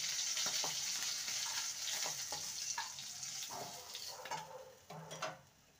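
Fish frying in mustard oil in a kadai, a steady loud sizzle with crackling bursts and occasional stirring or turning sounds, no talking.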